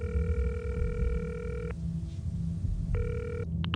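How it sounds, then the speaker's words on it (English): A telephone rings during a prank call, sounding two long electronic trills separated by a short pause over a murmuring crowd, then a brief click near the end. "Chris, let me phone my friend, please."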